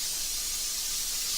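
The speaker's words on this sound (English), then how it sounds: "spray it down with some brake clean" Brake cleaner sprayed from an aerosol can onto an engine crankshaft during a rebuild, a steady, loud, close hiss that runs unbroken throughout with no talk.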